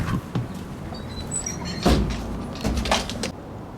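A door in an old house is pushed shut and locked, giving close, clunky knocks and rattles in a short burst of handling noise, with no speech.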